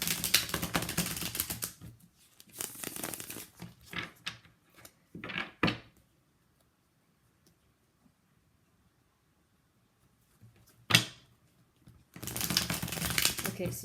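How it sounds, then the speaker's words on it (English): A deck of tarot cards is shuffled in bursts of crisp riffling and tapping, close and fairly quiet, separated by short silences, with someone speaking briefly in between. "Let me just shuffle real quick."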